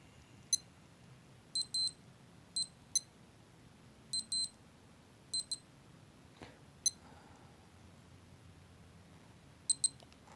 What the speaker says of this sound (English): So only the alarm 1 allows you to have a snooze alarm.